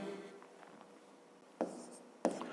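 A pen writes a math solution on paper, a quiet scratchy scrawl close by, broken by two short sharper strokes near the end, with no voices.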